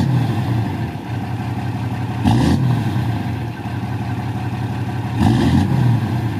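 A 6.7 Cummins diesel with a straight pipe, full 4-inch exhaust and a muffler idles with a steady, loud low rumble, swelling in two short revs.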